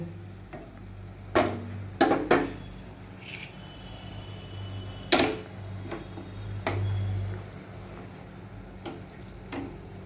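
Chicken pieces dropped into a salted, simmering mixture in a pan and stirred: several sharp clanks and scrapes of a utensil against the pan over a soft, continuous bubbling sizzle, with no talking.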